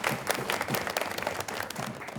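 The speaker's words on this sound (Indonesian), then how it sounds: "Kita berikan tepuk tangan untuk kita semua di sini." Studio audience applause at a TVRI Sumatera Selatan high school quiz show, steady dense clapping filling the room with no voices over it.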